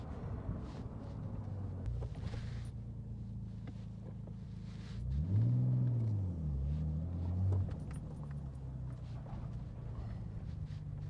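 A Nissan 300ZX (Z32) with four-wheel steering pulls away over low, windy cabin rumble. Midway through, the engine note swells and climbs, then settles back down.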